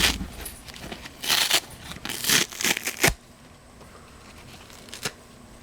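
Backing is ripped off a fine mesh cleaning sponge in several quick, close tearing bursts, followed by quiet with one faint scrape.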